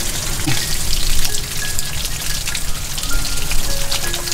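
Steady rain falls during an outdoor cooking session of braised pig's feet, making a dense, continuous crackling hiss that could be mistaken for frying, loud and even throughout with no talk.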